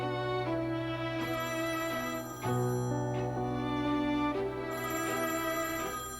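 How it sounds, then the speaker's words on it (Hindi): A mobile phone ringtone plays a steady melodic tune, repeating continuously at moderate volume with no voices over it. "मेरा फोन बज रहा है।"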